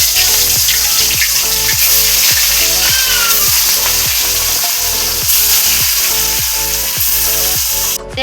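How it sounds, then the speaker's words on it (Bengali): Fish fries in hot mustard oil with a loud, continuous close sizzle, and regular low thumps repeat beneath it. "তেল গরম হয়ে গেছে এবার মাছটা ভেজে নেব"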